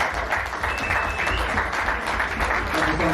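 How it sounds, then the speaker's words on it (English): Enthusiastic applause from an audience at a front-room talk event thanking the Checkpoint venue, a steady dense clatter of clapping that fills the whole stretch, with a few faint voices mixed in. "Round of applause to Checkpoint for having us, boosting the space"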